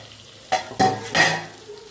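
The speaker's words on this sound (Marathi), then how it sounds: "मी आता वांगे घालून घेते. थोडंसं वरून मीठ घालून घेते." Stuffed eggplant with spice filling going into a hot pan: three distinct clattering thumps and scrapes of pieces and utensil against metal, close and fairly loud, with a faint sizzle between.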